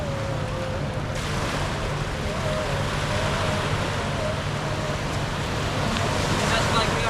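Steady broadband wash of warm, calm surf on the Gulf of Oman shoreline of the Indian Ocean, continuous and fairly close, with some wind rumble on the microphone and faint low boat-like hum.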